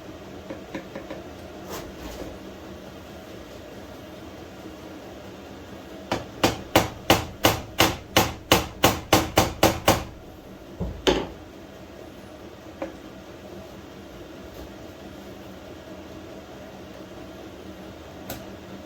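A hammer straightening a bent clutch plate from a Honda XR80 motorcycle: a quick run of about a dozen sharp metallic blows in steady rhythm, close and loud, followed by a couple of isolated strikes against a quiet workshop background.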